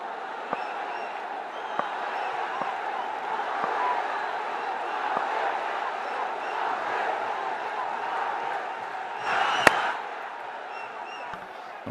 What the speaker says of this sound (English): When he comes on to bowl, they Shakib, Shakib.